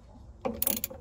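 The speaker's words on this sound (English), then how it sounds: "So I'm just going to gently turn the motor over" An aircooled VW engine is turned over gently by hand, out of gear, giving a short burst of mechanical clicking and ratcheting about halfway through, close and moderately loud after a quiet start.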